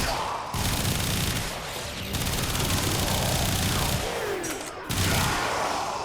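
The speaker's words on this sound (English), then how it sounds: "Every doorway is being covered by bullets." Rapid automatic gunfire from the Warframe video game rattles almost without pause, with dense bursts of shots covering doorways and a few heavier impacts mixed in.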